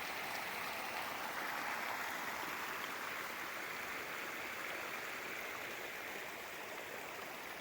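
Irrigation water flowing from a pipe in a maize field, a continuous rushing, gurgling flow that stays steady and fairly loud throughout with no voices.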